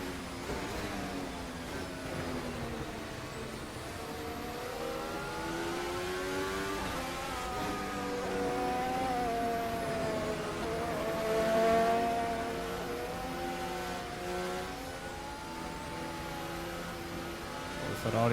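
A 2026 Formula 1 race car in the Assetto Corsa racing game: a steady high-pitched engine whine that climbs and falls through gear changes, continuous and fairly loud for the whole stretch, with no talking.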